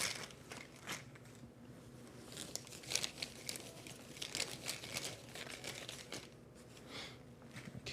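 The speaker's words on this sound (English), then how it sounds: "Give it a nice shuffle." Cards for a desert-expansion railroad board game being shuffled by hand at close range, giving a steady run of soft crinkling, riffling rustles that swell and fade over several seconds without any talk.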